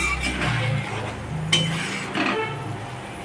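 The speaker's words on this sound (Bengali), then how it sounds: "আমি মশলাটা একটু কষিয়ে নিই।" Spice paste for a Bengali-style fish dish is stirred as it fries in oil, with a spoon scraping and clinking against the pan over a steady sizzle, close and continuous.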